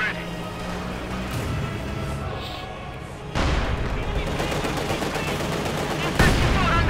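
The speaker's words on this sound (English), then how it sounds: "Oh, hit there by the 120mm mortar." Battle sounds from Company of Heroes 2, where a 120mm mortar shell hits during a 1v1 match amid steady gunfire and rumble, with a sharp impact burst near the middle and another near the end, as a commentator talks over it.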